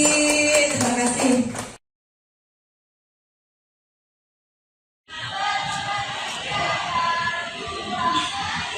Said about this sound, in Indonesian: Tepuk tangan untuk Bu Lili